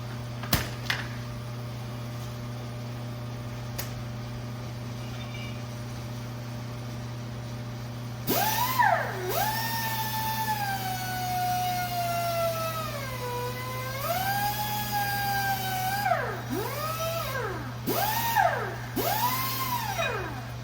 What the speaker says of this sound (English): we're going to take a wire wheel and just kind of clean that up on the inside there a little bit